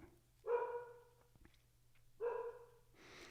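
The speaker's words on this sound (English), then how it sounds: "you guys can hear my puppy, Luna, hanging out" A puppy indoors gives two short, moderately loud barks about two seconds apart over a quiet room hum.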